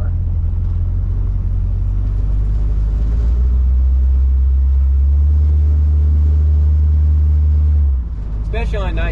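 A 1929 Ford Model A fitted with Corvette parts cruises around an airport with a steady, loud low engine rumble that holds for about eight seconds, then eases off near the end as faint chirpy sounds come in.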